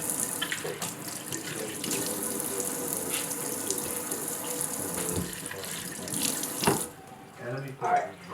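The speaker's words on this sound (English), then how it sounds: "now we've washed the apples" Apples washed under a running kitchen tap, a steady close gush of water splashing into the sink with handling noises, the flow cutting off near the end.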